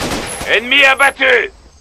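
Close, loud gunfire aimed at the player in the jungle shooter Raven Squad, a quick crackle of shots followed by a short voiced call amid the fire, then fading to quiet.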